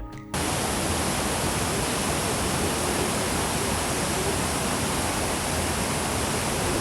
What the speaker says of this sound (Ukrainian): ми ще трошечки послухаємо шум водоспаду